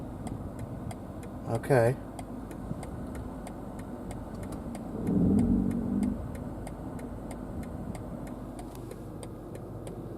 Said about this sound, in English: Still got the turn signal on.